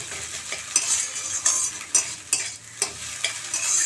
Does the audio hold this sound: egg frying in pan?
yes